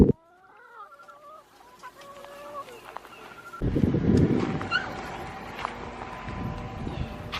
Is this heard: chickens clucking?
yes